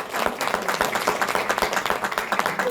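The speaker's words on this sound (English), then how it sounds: "He deserves a huge round of applause." Audience applause at a BNI business networking session, a dense spread of clapping from a gathered room, steady and fairly loud for nearly three seconds with no voices over it.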